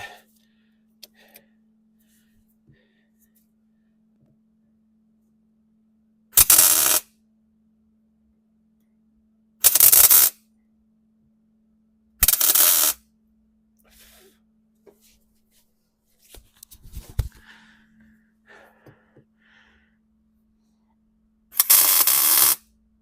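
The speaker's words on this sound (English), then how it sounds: "So I'm going to try to tack this down. I haven't used my MIG welder in a while." MIG welder tack welding on a Datsun 240Z, giving four short, sharp crackling bursts spaced several seconds apart against a steady low hum, with quieter handling noise between them.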